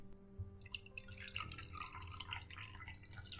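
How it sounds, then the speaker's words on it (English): A freshly shaken drink is poured out at a bar in a modern fantasy setting, giving a close, soft stream of dripping and trickling liquid with faint glassy clinks, no talking. "Pour it out."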